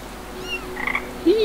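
Brief croaks from a toad in the game Grim Legends, a couple of quick chirping calls rising to a louder final croak, heard alone over a quiet ambient background.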